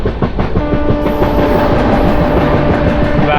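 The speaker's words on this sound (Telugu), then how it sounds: "WAG 9 locomotive." WAG 9 electric locomotive hauling the Visakhapatnam–Charlapalli express, loud and close, a steady rolling rumble with rhythmic wheel clatter over rail joints and a sustained tonal hum throughout.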